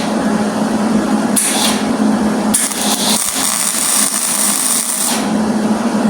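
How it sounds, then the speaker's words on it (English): Metal being tack welded gives loud, continuous crackling buzz in two sustained bursts separated by a short pause, close and harsh, with no talking. "We got it tack welded"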